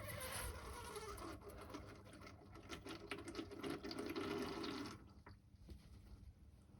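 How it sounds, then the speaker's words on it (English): Old engine oil pours steadily from the sump of a third-generation Camaro into a drain pan, a continuous liquid rush that runs for about five seconds and then drops away to a quieter trickle. "Lots of lovely old oil coming out."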